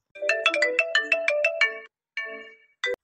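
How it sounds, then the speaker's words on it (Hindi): A cheerful melodic phone ringtone, the call from a mother-in-law, chimes in a quick run of bright repeated notes, pauses, then gives two shorter bursts, clear and close with no talking. "अरे ये तो सासू मम्मी का फोन है"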